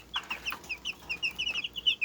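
Incubator-hatched Cheonggye and white Silkie chicks peep close by in rapid, high-pitched chirps that overlap continuously with no voices.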